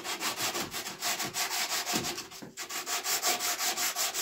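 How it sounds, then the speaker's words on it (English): Timber on a wooden Tudor-style duck house is sanded by hand in a steady rhythm of rasping back-and-forth strokes, close and even, with a brief pause midway. "then gently sand the timber"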